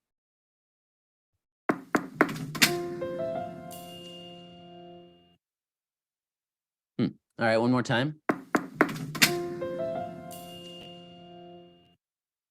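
A candidate sound logo built on knocking on a door: two separate bursts of sharp knocks, each followed by ringing musical tones, with a pause between them and a short spoken remark.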